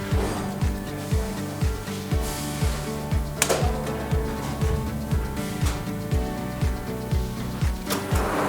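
A welding and cutting machine cuts tablet case material in a factory, giving a fast, regular series of sharp mechanical thumps about three per second, with a clanking hit and steady machine hum between strokes.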